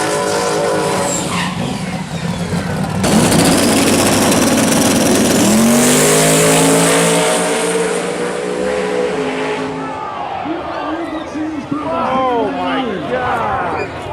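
Drag racing car engines roar and rev loudly, with screeching tires and a sudden chaotic burst of noise as cars crash after the start; crowd and announcer sounds mix in.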